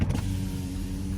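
A Mercedes GLE AMG Coupe's power window hums steadily as it lowers, a short continuous motor whir inside the vehicle.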